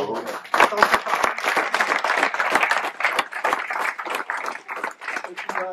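An audience at an outdoor country festival claps for several seconds, a dense close patter of many hands that rises and then thins out.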